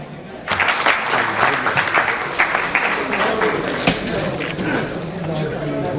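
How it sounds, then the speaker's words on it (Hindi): Applause at an award ceremony honoring recipients, a crowd clapping loudly and steadily for several seconds, with a voice speaking over it. "जोरदार तालियां बजाएं।"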